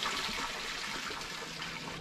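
Water trickling and splashing into a newly built budget garden pond as it fills, a soft continuous burble at low level.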